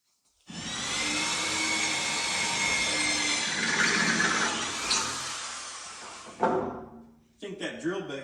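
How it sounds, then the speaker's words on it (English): Power drill boring holes into wooden decking boards on an old RV trailer, a steady loud whirring grind lasting several seconds, then stopping with short knocks and a voice speaking at the end. "I think that drill bit's actually cutting better now than it was the first 2 days we did the decking"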